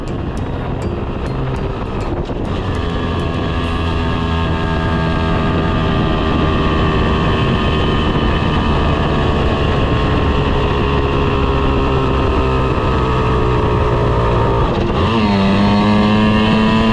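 A car drives onward along a road, its engine and tyre noise a steady, loud drone throughout with subtle shifts in pitch, no voices heard.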